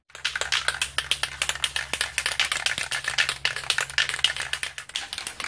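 An aerosol spray can is shaken hard near the mic during a Yamaha TDR250 copper gasket repair, the mixing ball rattling in a rapid, steady stream of sharp clicks for about five seconds with no talking.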